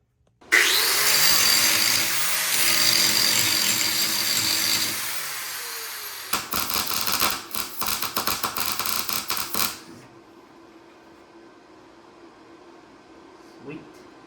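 A power tool cuts out the oil pan and power steering brackets on a 1977 Chevrolet K10 truck during an LS engine swap, giving a loud, steady grinding whine that shifts into a rougher, pulsing cut before stopping, leaving quiet shop background.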